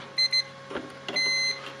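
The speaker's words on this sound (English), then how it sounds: "I will turn on the beep" A multimeter gives two short continuity beeps, then a longer sustained beep, thin and high-pitched, while fuses in a Makita fast charger are tested, over faint background clatter and handling noise.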